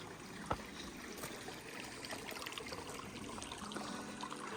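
Creek water flowing along a trail in the Ouachita Mountains, a steady close babbling trickle with a brief knock near the start, continuous and moderately quiet.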